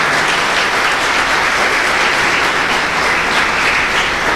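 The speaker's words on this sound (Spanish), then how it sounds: "Denle un aplauso a nuestro Dios." A church congregation applauds during a Christian service, a steady, loud wash of many hands clapping that holds evenly throughout.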